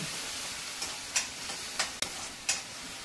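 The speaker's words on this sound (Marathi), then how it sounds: "हे तेल सुटेपर्यंत चांगलं परतून घ्यायचे।" Thapi vadi mixture of batter with sesame, poppy seeds and coriander sautés in oil in a pan, a soft continuous sizzle broken by several sharp scraping taps of a spatula stirring against the pan.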